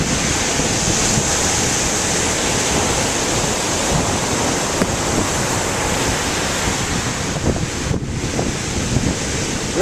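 Pacific Ocean surf at the shore sends a loud, continuous roar of breaking waves mixed with heavy wind buffeting on the microphone, sustained without pause and with no speech.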